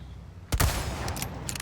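Video game gunfire from Resident Evil 4 as an enemy is shot: a few sharp, loud shots burst after a short quiet stretch, followed by more reports, with no talking.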